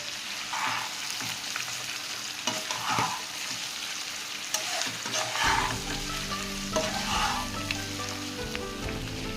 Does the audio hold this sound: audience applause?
no